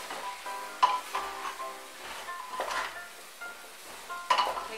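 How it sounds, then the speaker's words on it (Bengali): Broken wheat (daliya) stirred in a pan, with a utensil scraping and clinking against the metal in irregular strokes, moderately close and unhurried, no voices. "ডালিয়াটাও ভালো করে মিশিয়ে নেব।"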